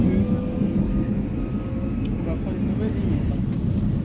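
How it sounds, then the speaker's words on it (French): Steady rumbling of a Paris metro train in motion, a constant low roar filling the space with faint clatter throughout. "On est dans le métro pour voir comment on a rentabilisé le lieu"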